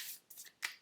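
Tarot cards being shuffled by hand: three quick, papery riffling bursts close by, each a short crisp rush of card edges with brief pauses between.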